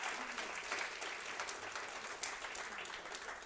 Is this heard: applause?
yes